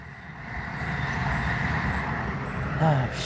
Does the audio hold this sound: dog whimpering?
no